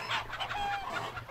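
Chickens in the video game The Hobbit cluck in a quick series of soft, fairly faint calls, with a few rising notes, and nothing else is heard.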